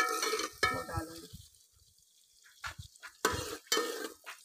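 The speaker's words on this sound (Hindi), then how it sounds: "सबसे पहले प्याज फ्राई करते हैं," Chopped onions frying in a pan in a home kitchen in Multan, Pakistan, with bursts of sizzling and stirring scrapes broken by a quiet gap, close and moderately loud.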